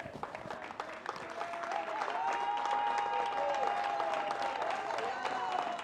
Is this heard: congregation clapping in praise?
yes